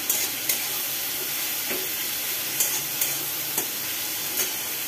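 Ginger and tomato sautéing in a pan for a vegetarian pumpkin sabzi, a steady soft sizzle and hiss with occasional sharp scrapes of a stirring spoon against the pan, no voices.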